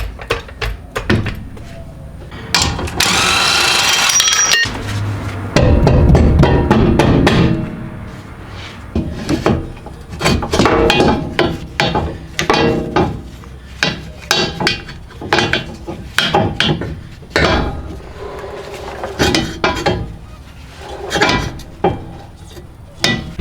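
Power tool whirring in bursts while a lower control arm is removed from a Honda Civic FK7 during rear sway bar work, with a long loud run early on, then many short rattling, clanking mechanical hits throughout.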